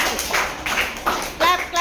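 Classroom clapping for a student, a few short bursts of hand claps mixed with voices of the teacher and pupils nearby.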